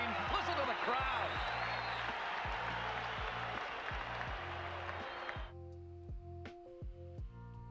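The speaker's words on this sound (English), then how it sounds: "Listen to the crowd" A stadium crowd roars and applauds as Bo Jackson's wall play appears on the big screen, a loud broad swell under steady music beats that drops away abruptly partway through, leaving the beat with a few thumps.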